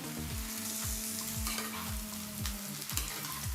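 Pointed gourd (potol) frying with lightly browned onion in a pan, a steady hiss of oil under regular scraping strokes of a spatula, about one every half second, close and continuous with no voices.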